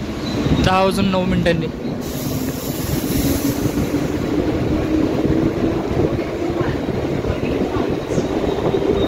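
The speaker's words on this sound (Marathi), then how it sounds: "तर निघाली आपली ट्रेन" A Mumbai local train pulls out of Churchgate station with a steady rumbling roar and rising motor whine, a horn-like tone near the start, and someone talking over it.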